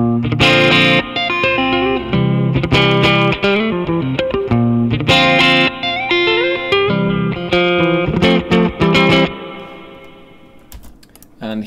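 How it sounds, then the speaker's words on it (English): Electric guitar played through an Axe FX modelling a slightly driven Fender Twin for light crunch, loud and close with chords and single-note lines strummed in bursts, ringing out near the end. "Then this is the Axe FX."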